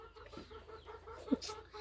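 Chicken clucking in a Tamil village home, a few short faint clucks and one brief louder call amid background household noise and voices.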